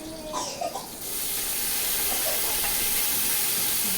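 Tomatoes hitting hot oil with browned onions for beef pulao, a loud steady hiss and sizzle that rises abruptly and holds strong, after a brief quieter stretch.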